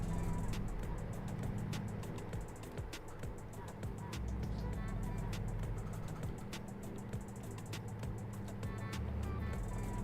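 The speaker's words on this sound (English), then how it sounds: "the Volvo F86 definitely sounds beefy" A Volvo F86 truck engine in Euro Truck Simulator 2 drones steadily at a low pitch, with rhythmic clicks and ticks running over it and a faint voice in places.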